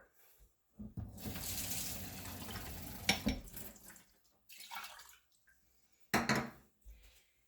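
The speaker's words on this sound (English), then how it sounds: "All right, half a cup of cold water." Cold water runs from a kitchen tap into a cup in a steady stream lasting a couple of seconds, followed by brief clinks and short bursts of running water.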